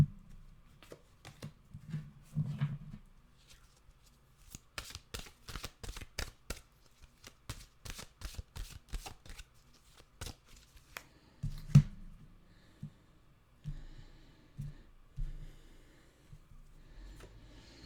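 Tarot cards are shuffled by hand, giving a quick run of soft, crisp riffling clicks in the middle stretch, with scattered taps before and after in a quiet room.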